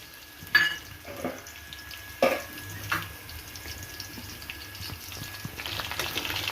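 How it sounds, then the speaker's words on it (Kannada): Garlic paste dropped into hot oil gives a soft, fairly quiet sizzle with a few clinks and scrapes, building slightly toward the end. "ಎಣ್ಣೆ ಕಾದ ನಂತರ ಬೆಳ್ಳುಳ್ಳಿ ಪೇಸ್ಟನ್ನು ಮೊದಲೇ ಮಾಡ್ಕೊಂಡಿರ್ತಿರೋಂಥ ಬೆಳ್ಳುಳ್ಳಿ ಪೇಸ್ಟ್ನ ಹಾಕ್ತಾಯಿದ್ದೀನಿ."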